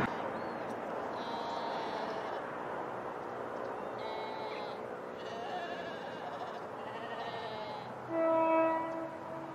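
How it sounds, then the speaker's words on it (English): A distant train horn sounds over an outdoor morning scene, a faint sustained tone near the end following scattered bird calls and bleating animals across a wide valley. "I thought I heard a train."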